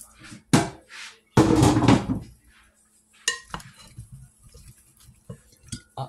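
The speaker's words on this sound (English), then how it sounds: "I'm gonna mix my salad up." Fruit salad of pineapple, strawberries and tangerines being mixed, with scattered clinks and scrapes of a utensil against a container, some bursts louder and rustling, others faint, with brief background voice.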